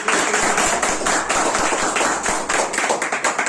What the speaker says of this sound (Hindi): तो जोरदार ताली से इनका स्वागत